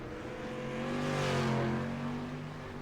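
A street stock race car revs on a dirt track at Kokomo, its engine swelling loudly as it passes near and then fading away, a rising-and-falling pass-by roar.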